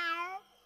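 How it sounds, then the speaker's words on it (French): A single cat meow from an animated French fairy-tale episode, a clear, close, drawn-out cry that falls in pitch and then fades. "chat."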